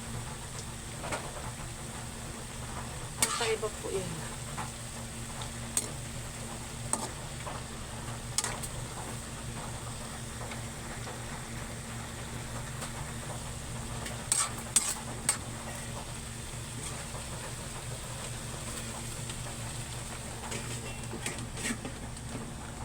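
Vegetables sautéing with leftover fried fish in a pan, a steady close sizzle and hum running throughout, with occasional clinks and scrapes of a utensil stirring, and no talk.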